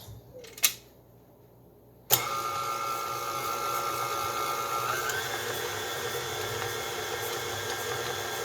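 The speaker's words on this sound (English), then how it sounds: "we mix it in the mixer about 1 to 2 minutes" An electric stand mixer kneads flour tortilla dough at medium speed, starting with a sharp clack and brief quiet before the motor kicks in at about two seconds and whirs steadily, shifting pitch slightly midway, loud and close with no talking.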